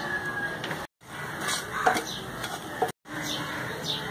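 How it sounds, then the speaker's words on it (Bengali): Black cumin seeds and dry red chillies crackle and sizzle in hot mustard oil in a pan, a steady close frying hiss with scattered pops and a few spoon scrapes, broken by two brief cuts. "কালো জিরের সাথে শুকনো লঙ্কা ফাটিয়ে নিয়ে ফোড়ন দিয়ে দিতে হবে।"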